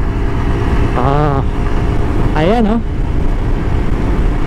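A 150cc FKM Ranger motorcycle runs with a steady, close engine drone throughout a test ride, while someone talks over it in two short bursts.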